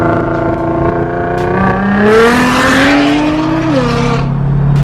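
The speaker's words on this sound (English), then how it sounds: "So what'd you guys think of that car?" A Nissan GT-R Track Edition engine revs loudly and steadily, its pitch climbing then sliding back down, with no voices over it.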